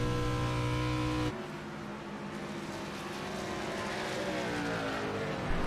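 Simulated race car engines roar continuously in iRacing's CTC Cup Series at Indianapolis Motor Speedway, a steady loud drone that shifts in tone as a car passes by, with no talking.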